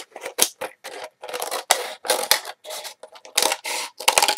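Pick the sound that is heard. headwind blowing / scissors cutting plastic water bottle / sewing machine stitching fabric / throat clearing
scissors cutting plastic water bottle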